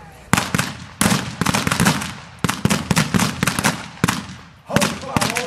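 Repeated sharp gunshots in a Billy the Kid pageant, a western reenactment show, firing in quick irregular bursts of several cracks each, loud and echoing, with a few brief gaps between volleys.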